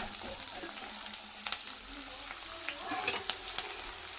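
Onions frying in a pan give a continuous sizzle with occasional sharp crackles and scraping stirs, close and fairly busy throughout.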